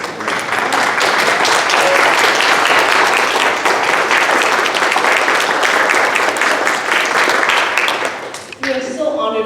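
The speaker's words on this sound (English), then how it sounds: "Let's all stand and give us a good round of applause." A standing ovation at an elementary school mural unveiling in Delano: dense, loud, sustained applause from a large crowd that fades near the end as a voice begins speaking.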